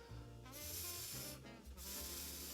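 Air blown through lips set too far apart for a trumpet buzz produces a faint, breathy hiss with no pitched tone, in a few soft puffs.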